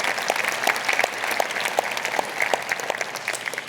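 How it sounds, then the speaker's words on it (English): A civic audience at a city's State of the City address gives a round of applause, with steady clapping and sharper individual claps standing out near the listener. "yes, a big applause"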